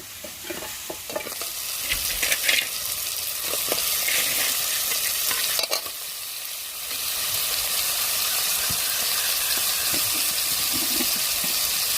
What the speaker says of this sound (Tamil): இப்போ நம்ம நண்டு அழை சேர்த்துக்கிறோங்க